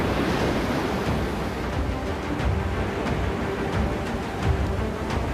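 Stormy sea waves crash continuously onto Chandipur beach in Odisha after Cyclone Yaas, a dense roaring surf mixed with gusting wind buffeting the microphone, with no voices heard.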